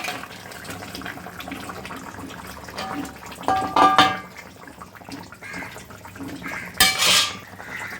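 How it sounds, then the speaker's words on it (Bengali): Dried eggplant and lentil dumplings tipped into a pan of simmering fish curry with potatoes, giving a few clattering bursts of pot and utensil noise over a low kitchen background, with the loudest clatter near the end. "এবার বেগুন বড়িগুলো দিয়ে দেবো"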